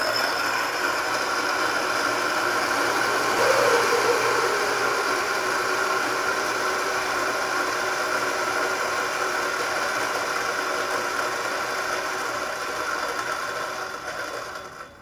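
A Turin DF83V coffee grinder runs at 300 RPM on espresso beans, a steady whirring hum with a grainy hiss that holds for about fourteen seconds, then fades out at the end.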